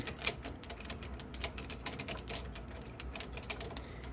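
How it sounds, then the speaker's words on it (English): Bixpy universal kayak adapter being screwed down from the top, giving a soft run of small ratcheting, clicking turns at close range, irregular and fairly quiet with no talking. "So I'm just going to do it from the top here. Screw it down."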